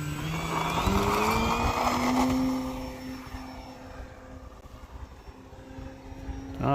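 An FMS Pitts V2 1400mm RC airplane takes off and flies, its electric motor whining steadily and loudly at first, then easing off and fading as the plane moves farther away.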